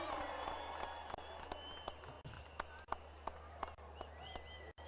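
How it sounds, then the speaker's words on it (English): A crowd in cricket stands cheering and clapping at a distance, a faint wash of applause with scattered sharp claps and whoops, no talk over it. "There's obviously going to be a cheer in the stands whenever you step up."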